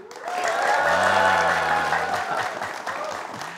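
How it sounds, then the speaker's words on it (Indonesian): A school audience at a pantun call-and-response event breaks into loud applause that swells quickly and stays dense, with a sustained voice or tone audible within the crowd noise before it eases slightly. "Kurang seru, tepuk tangan lagi"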